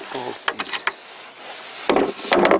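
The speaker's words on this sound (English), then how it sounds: "that bolt in here, and I continue to open it." A bolt being loosened on the intake manifold of a Toyota Corolla VVT-i engine, heard as a few short, close ratcheting and clicking bursts with quiet gaps between them.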